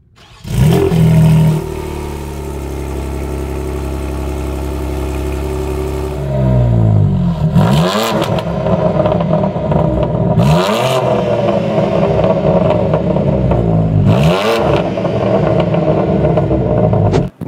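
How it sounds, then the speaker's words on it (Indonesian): BMW M4 Competition with an Akrapovic full-system exhaust revs hard: a loud start-up bark, a steady idle, then three sharp throttle blips that rise and fall, close and alone. "Terus habis itu, knalpotnya sudah full system dari Akrapovic."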